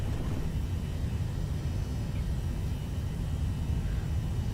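A steady, broad jet-engine roar holds without a break as an airliner makes its takeoff roll from a short runway at Queenstown in Microsoft Flight Simulator 2020.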